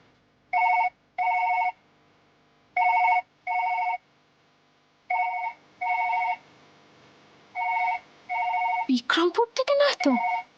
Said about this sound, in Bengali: ফোনটা বাজিয়ে যাচ্ছে